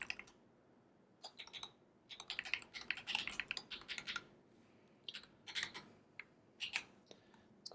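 Fingers type a password on a computer keyboard, quiet close key clicks coming in short irregular bursts with brief pauses between them.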